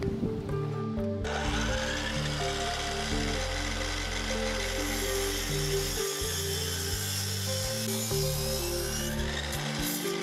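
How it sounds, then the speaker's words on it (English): Miter saw cutting a 45 degree angle into a 2x6 board, a loud, sustained motor whine and rasping cut that runs steadily throughout, close up with no voices. "Set up your miter saw to make 45 degree cuts as shown here."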